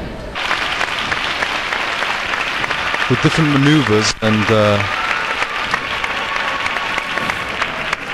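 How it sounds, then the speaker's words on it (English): A large crowd applauds a horse maneuver during a Holy Week procession in Seville, a dense steady wash of clapping that lasts the whole clip while someone talks over part of it. "The crowds are now really applauding the maneuver"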